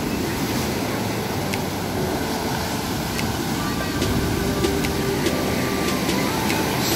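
Ocean surf rolling onto the beach at Lampuuk, Aceh, a steady broadband wash that runs without break across the whole stretch, with no voices over it.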